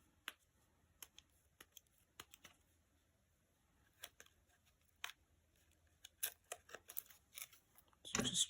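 Scissors cutting foam tape at a craft table, a handful of sharp isolated snips and clicks spaced out in near silence, ending in a denser cluster of rustling cuts.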